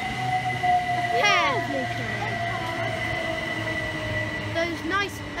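A Southern Class 377 Electrostar electric train pulls away from Berkhamsted station, with a steady electric hum, rising and falling motor whines and a low rumble, moderately close throughout.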